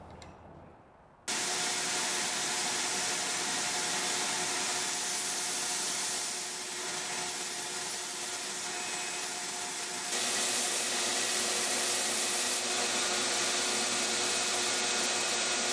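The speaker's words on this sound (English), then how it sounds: "Now I'll grind the cross guard to shape on my belt grinder." Belt grinder shaping a knife cross guard for a Damascus Ka-Bar style knife, a loud steady whirring roar that starts abruptly after a quiet moment and holds with slight changes in pitch and pressure, no talking.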